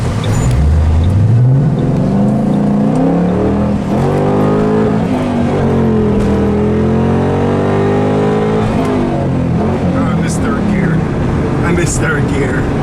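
Ford Mustang fitted with a cold air intake accelerating hard through the gears on a road, a loud, close engine note climbing and dropping at each shift, with the tires breaking loose.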